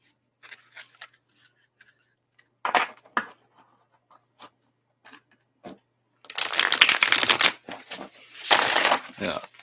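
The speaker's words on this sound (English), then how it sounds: "thick cards and a little bit harder to shuffle like that" Thick tarot cards are shuffled in a few scattered riffles and then two longer, louder bursts of riffling near the microphone, separated by quiet pauses.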